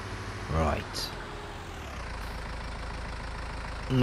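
A tractor engine idling at night in Farming Simulator 19, a steady low rumble throughout with a brief rev or clunk near the start, a person talking over it.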